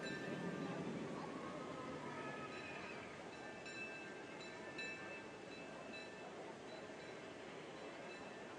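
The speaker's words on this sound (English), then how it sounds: "locomotive number 1, the CK Holiday, is going through some test runs to see how it performs on the newly created railroad tracks." Locomotive number 1, the CK Holiday, on a test run over newly laid railroad tracks, a steady rolling rumble with faint metallic squeals and clinks from the wheels, mid-distance and moderately loud.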